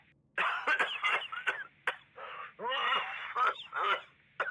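A character in the video game The Division 2 coughs in a harsh, hacking fit, with about a dozen close, raspy bursts and throat-clearing over roughly four seconds.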